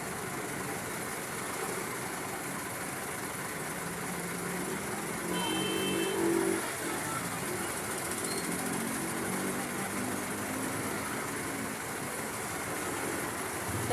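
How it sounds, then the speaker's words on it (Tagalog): Steady engine rumble from street traffic and idling cars at a corner being used as a parking area on a school day, a continuous mid-level drone with no horns and no voices. "Traffic. Alam niyo naman, traffic ngayon."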